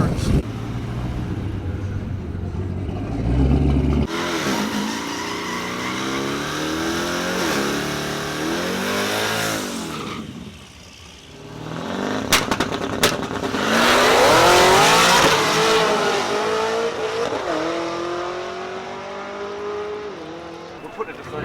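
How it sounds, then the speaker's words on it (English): A twin turbo Camaro ZL1 holds revs on a two-step, then launches in second gear and roars away with the engine climbing hard through rising pitch, loud and near, while people talk over it. "I'm able to start out and launch in second gear. So we're gonna try that out."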